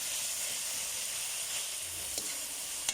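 Onion, garlic and tomatoes sizzle in a hot pan, a steady, close frying hiss with a couple of faint clinks from stirring partway through, and no voices.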